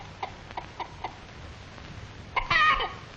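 An old hen clucks on a farm with a few soft, spaced clucks followed by a louder, burbling run of clucking, fairly close with no talk.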